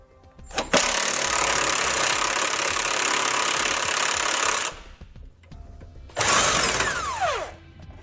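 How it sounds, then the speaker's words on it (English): Power socket tool spinning a nut off a base plate bolt on a 2018 GMC frame, a loud sustained buzzing whir for about four seconds, a pause, then a shorter winding-down burst. "putting the socket on the nut, and you may have to grab an 18mm wrench and hold the bolt on the other side"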